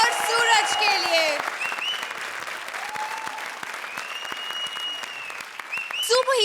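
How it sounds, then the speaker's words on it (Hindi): A studio audience at a Hindi TV comedy show claps and cheers in a steady, dense burst, with a host's voice talking over the applause and music swelling near the end. "जोरदार तालियां वीआईपी और सूरज के लिए"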